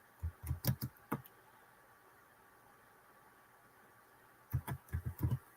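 Two short bursts of keystrokes on a computer keyboard, quick and fairly close, separated by several seconds of quiet room hiss.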